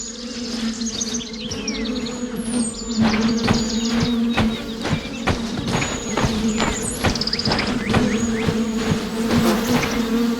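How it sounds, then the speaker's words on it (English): Bees buzz continuously and fairly close in a video game, with a dense swarming hum and rapid clicking pulses, while faint high chirps sound occasionally over the top. "I hear the bees."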